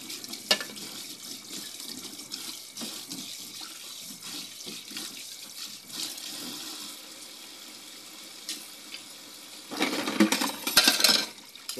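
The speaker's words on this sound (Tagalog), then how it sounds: "Ngayon, babanong ko ng mga kutsara muna." Tap water runs steadily into a sink while spoons are rinsed of soap, with occasional metallic clinks of cutlery, close, ending in louder splashing; no speech.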